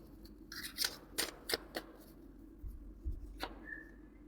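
Two Osho Zen tarot cards are drawn from the deck, giving quiet close-up shuffling and sliding card sounds in several short bursts, with a few soft taps.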